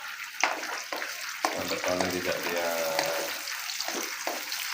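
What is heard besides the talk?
sautéing shallots and large red chilies in a pan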